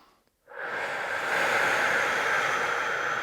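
A long, steady exhale during foam rolling for pain release, close and fairly soft, starting abruptly after a short silence and holding for about three seconds.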